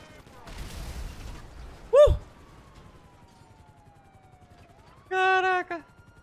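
Gunfire in GTA 5 during a police chase: a dense crackle of shots early on, then sharp harmonic tonal bursts that sound like sirens or horns over steady engine drone, with a long falling whine between them.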